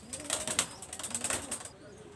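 A pair of Pakistani high-flying Teddy pigeons, a quiet burst of wing flapping mixed with soft low coos, close by and brief, trailing off into near silence.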